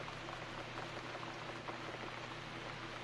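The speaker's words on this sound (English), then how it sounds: "It's raining, it's downpour." A steady outdoor downpour: dense, hissing rainfall drumming without pause for the whole stretch, fairly close and even in level, with no voices.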